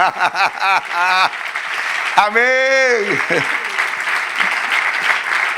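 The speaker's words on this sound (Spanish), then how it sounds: "Dale un aplauso al Señor." Church congregation applauding for the Lord, the clapping running under voices that sing and call out in pitched, sustained tones over the first half, then settling into a steady patter.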